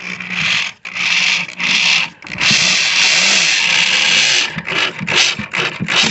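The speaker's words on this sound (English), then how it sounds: "we're just going to put a screw in there like that" A power drill drives a square-headed screw into scrap wood while a garden box is built, whirring loudly and close in several bursts, the motor cutting out and restarting, with one long sustained run in the middle.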